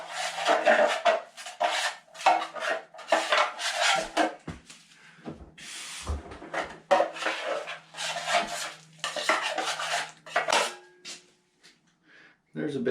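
Pre-fill drywall joint compound being mixed by hand, with repeated scraping and knocking of a tool against a pan or tray in uneven bursts, pausing briefly now and then.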